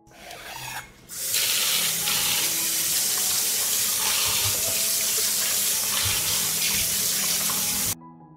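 Fresh tomatoes washed under a running kitchen tap: a steady, close hiss of flowing water hitting the sink, starting abruptly after a moment of quieter handling and cutting off at the end.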